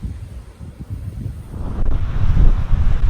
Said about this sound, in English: I don't know if you can even hear me, because it is windy